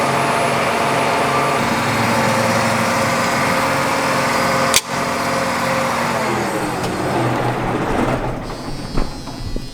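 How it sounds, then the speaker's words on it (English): A 13-foot John Deere MoCo mower conditioner runs steadily up close, its engine and machinery droning continuously, with a sharp clunk midway and rougher rattling toward the end. "We run a John Deere Moco,"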